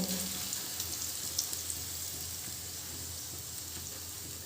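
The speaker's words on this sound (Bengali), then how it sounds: "তেলটা আমার গরম হয়ে গেছে এর মধ্যে দিয়ে দিলাম এবার এই যে মুড়ি মাখানো ব্যাটারটা দিয়ে" Puffed rice batter frying in hot oil, a steady soft crackle and hiss that stays close and even throughout, with no talking.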